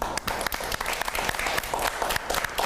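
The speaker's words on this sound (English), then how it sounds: "let's give Roberto Valenzuela an amazing round of applause" Audience applause, loud and close, with distinct individual claps forming a dense, uneven patter over a few seconds.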